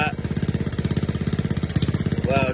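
A car engine cold-starts and idles through a 2.5 to 3-inch straight pipe exhaust with a 6-inch tip on a 33-degree morning, a close, loud, rapid rhythmic burble with a brief blip near the end.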